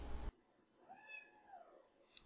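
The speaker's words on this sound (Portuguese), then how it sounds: "minha gata participando da gravação mais uma vez" A pet cat lets out a single long, rising-and-falling meow, moderately faint and fairly close, after a short loud burst of noise at the very start, with quiet room background and no talking.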